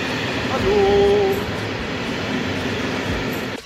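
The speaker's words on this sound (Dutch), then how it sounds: "we zitten nu in de trein van het type I11 in de eerste klas" Interior of an I11-type passenger train in first class, a steady rumbling rail noise and cabin hum with a short tonal whine near the start, continuous and fairly loud.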